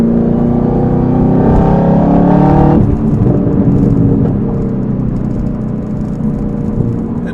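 A Chevrolet Camaro ZL1 with modified exhaust rumbles loudly, holding a strong revving drone for about three seconds before dropping into a lower, steady engine burble.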